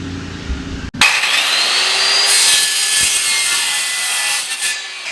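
A circular saw fitted with a wood blade bites into aluminum after a short pause, then screams through the cut with a loud, sustained whine that wavers slightly near the end.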